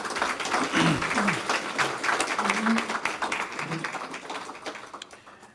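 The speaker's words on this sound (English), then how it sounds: "Won't you put your hands together and give yourselves a round of applause?" Audience at an evening mayor's public safety forum in the Southwest District applauding themselves, a dense roomful of clapping with a few murmuring voices mixed in, steady and then tapering off.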